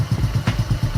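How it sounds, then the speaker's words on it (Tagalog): A Kawasaki Aura motorcycle under restoration idles close by, its engine putting out a steady, rapid chugging pulse of low thumps with no talking. "Naka-start na yung makina niya."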